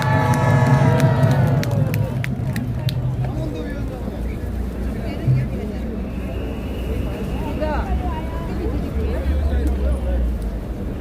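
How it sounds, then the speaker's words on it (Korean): A live audience breaks into loud cheering and applause to welcome a guest on stage, a dense swell of clapping and whoops that fades to a lively crowd murmur. "여러분 큰 박수로 환영해 주십시오."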